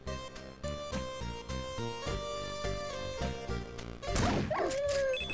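A dog barks in the 8-bit noir video game Rot Gut, with sharp yelps bursting out near the end over a continuous bed of game music, loud and close.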